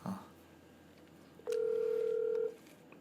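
A single steady telephone dialing tone, loud and close, holds for about a second while a call is placed, with a brief faint noise at the start and quiet room hiss around it.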